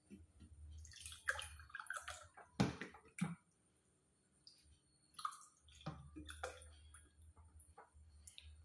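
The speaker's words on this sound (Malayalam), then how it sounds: "ഇനി നിങ്ങൾ വെള്ളം എടുത്ത് ഗ്ലാസ്സിലോട്ട് വയ്ക്കുക." Water is poured into a glass for homemade lemon sherbet in short, quiet splashing and dripping bursts separated by pauses, heard close up with no talking.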